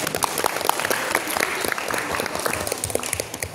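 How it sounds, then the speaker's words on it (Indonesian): Audience applause at a motivational session before a school quiz competition, a brisk scattered clapping from a modest group, close and lively, with faint talk mixed in. "tepuk tangan dong"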